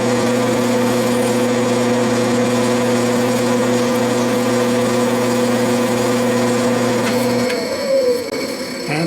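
An Atlas 618 metal lathe hums with a steady tonal drone while turning a 3-degree taper, then the motor winds down near the end of the clip.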